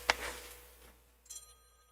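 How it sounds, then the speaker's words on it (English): A phone alarm gives a short ringtone burst, first a sharp tone and then a fainter electronic chime that trails off, heard indoors with no talking. "Oh, that's my alarm telling me the time to get up."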